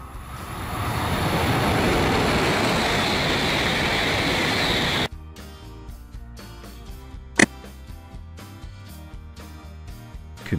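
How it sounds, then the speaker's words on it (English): A high-speed bullet train rushes past in a loud, swelling roar that cuts off abruptly, leaving quieter rhythmic rail clatter and a brief sharp burst. "Bullet train, a high-speed train, often used in Japan and some other countries"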